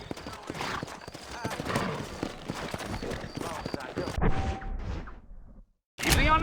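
Horse hooves clip-clop steadily in a Western video game set in New Ulster, sturdy horses trotting under a man's spoken dialogue, followed by a brief quiet gap and a sudden burst.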